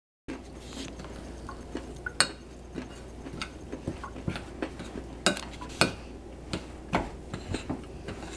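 Poppy seed and milk being stirred in a bowl: a spoon scraping and clinking against the dish in uneven strokes, with sharper taps every second or so, close and fairly quiet.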